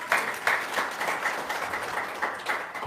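An audience at an Indonesian motivational seminar claps on request, a short burst of moderately loud, uneven clapping with a few sharper accented claps rising and falling over about three seconds.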